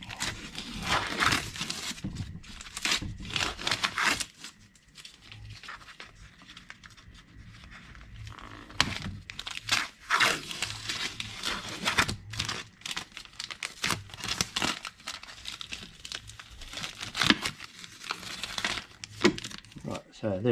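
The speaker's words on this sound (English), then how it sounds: "we can take our tape back off, because we don't need to remove that again" Tape being peeled off Honda Civic FN2 Type R parts during a differential installation, bursts of close crinkling and tearing with quieter pauses between them.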